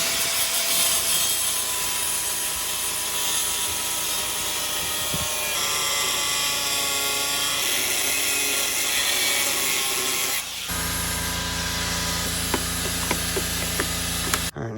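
A saw cutting the outer shock bracket on a Jeep JL during a long arm kit install, a loud continuous grinding cut with a whining tone that stops abruptly near the end, followed by lighter mechanical clicks.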